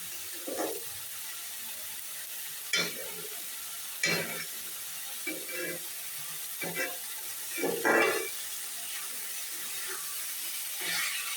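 Leafy greens frying in a pan over raised stove heat, a steady soft sizzle with intermittent spatters and the scrape of a spatuladdle stirring, several distinct bursts of stirring over a continuous hiss.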